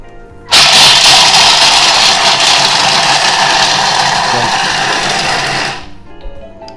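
Food processor running at speed 5 chopping toasted skin-on almonds: a loud, steady whirring grind starts abruptly, holds for about five seconds, then cuts off and spins down, with a brief clatter at the end.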